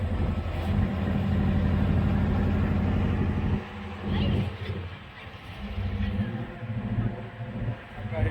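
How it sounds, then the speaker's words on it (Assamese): A motor launch boat engine runs on the Brahmaputra river with a steady, loud, low droning rumble that dips and surges slightly toward the end. "এয়া লঞ্চখন ষ্টাৰ্ট দিছে আৰু নাওখন চলি গৈ আছে।"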